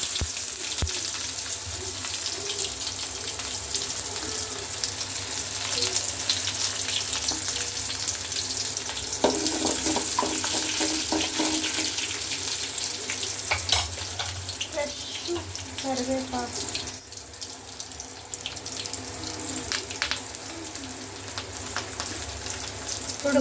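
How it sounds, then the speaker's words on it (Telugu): Mustard seeds and onions fry in hot oil, a steady close sizzle and crackle running throughout with occasional louder pops and spatters. "ఆయిల్ అయితే హీట్ అయిపోయింది ఆవాలు ఆనియన్స్ అండి"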